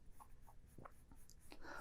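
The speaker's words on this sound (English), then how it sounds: "I see this very hatchy line like this" Pencil drawing short, hatchy strokes on paper during a car design sketch, a few faint scratchy bursts spread across a quiet background, close and soft.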